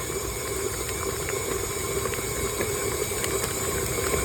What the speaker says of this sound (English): I'm just whisking it up now, beating it up so it's all combined